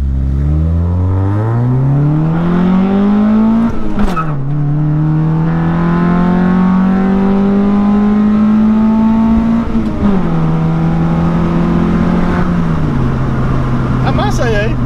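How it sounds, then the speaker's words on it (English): A detuned Honda Prelude H22 VTEC engine revs up through the gears in rising pulls as VTEC engages, with sharp shifts and a strong, close, high-revving roar under hard acceleration. "give it a little bit of a pull that you guys can hear how the lift kicks in of the Vtec"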